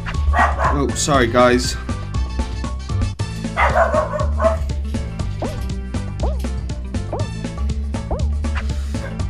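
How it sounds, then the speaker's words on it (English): A cockapoo barks and yips repeatedly in the background, close-ish and fairly loud, over game music and someone talking. "That would be our cockapoo barking in the background."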